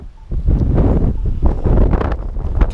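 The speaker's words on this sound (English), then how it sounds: "Because it's too windy. Too much snow." Strong gusty wind in a night snowstorm roars and buffets loudly, with rumbling low rush and rustling that rises and falls continuously.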